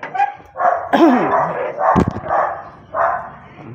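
Several dogs bark and yip in short bursts, close by, with a whimpering whine mixed in among the barks.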